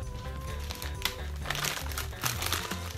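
Soft, continuous crinkling of a plastic bag full of beads being handled close by, with a faint musical hum underneath.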